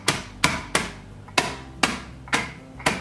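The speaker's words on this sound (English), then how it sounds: "take a rolling pin and just kind of break these up roughly" A rolling pin strikes pretzels inside a Ziploc bag, breaking them into coarse pieces: about seven sharp, crunchy thumps at an uneven pace, close by, with no talking.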